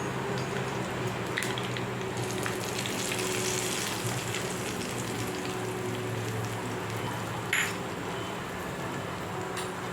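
Hot tempering poured into chutney sizzles and crackles in a steady, soft hiss throughout, with a couple of sharp clicks and spatters near the end.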